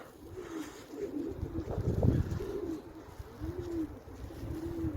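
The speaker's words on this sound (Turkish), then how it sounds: "Havada uçan kuş da güzel." Pigeons coo in soft, repeated rounded phrases at moderate distance over a low, steady background rumble, with no voices present.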